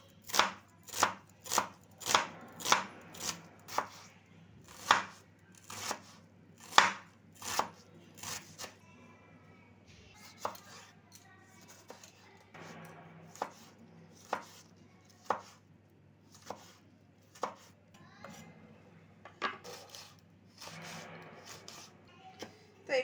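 A knife chopping meat into small pieces on a board, a rapid run of sharp knocks followed by slower, irregular cuts, close and fairly quiet.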